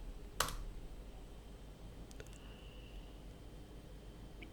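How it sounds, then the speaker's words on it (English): A few sparse, faint clicks from a computer keyboard as a command is typed. The keystrokes sound close but quiet, over a soft hiss of room noise. "So type code space dot"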